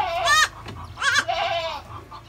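Baby goat bleating during an injection on a goat farm, two loud, quavering bleats a half-second apart followed by a longer, fading cry, close to the microphone with no talk.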